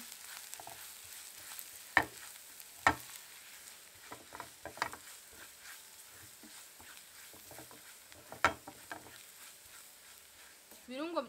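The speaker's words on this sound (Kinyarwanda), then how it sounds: "Ubundi dukaranga ibirungo byacu bishe." Spices, including black pepper, sizzle and fry in a pan while cooking plantain, a soft steady crackle with a few sharp clicks of stirring utensils.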